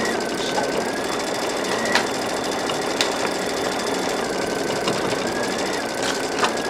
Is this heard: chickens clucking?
no